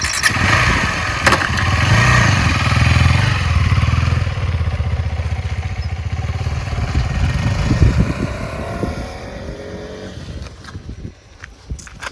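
A 2024 KTM Adventure 390 motorcycle runs close by, its engine rumbling steadily and loudly, then easing off and fading toward the end as it pulls away; no talking.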